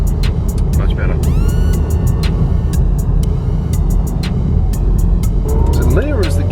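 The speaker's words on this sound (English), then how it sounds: "Listen to the engine coming from the rear." Engine of a rear-mounted car while driving, a loud continuous low drone and rumble filling the cabin, with repeated short clicks and a whine near the end; no speech.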